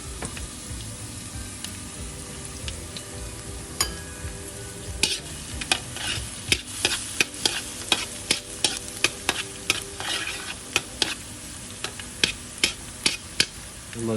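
Minced garlic fries in oil in a pan, a steady soft sizzle with sharp ticks and spatter pops that grow more frequent, plus occasional stirring scrapes, close and without talk.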